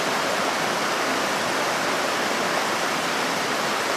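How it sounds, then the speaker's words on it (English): The South Fork Salmon River rushes past in a steady, close hiss of flowing water, continuous and even throughout, with no voices. "This is the South Fork Salmon River."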